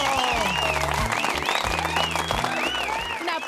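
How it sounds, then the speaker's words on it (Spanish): Studio audience at a Spanish tapas cooking show bursts into steady applause, loud dense clapping that carries throughout while music plays underneath. "Un aplauso para ustedes, que son un público maravilloso."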